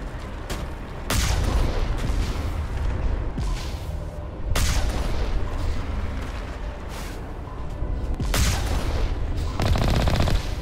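Heavy booming cannon fire from a vehicle's long-range cannon in the video game Mass Effect, three or four loud blasts rolling out over dense continuous rumble and battle noise, no talk.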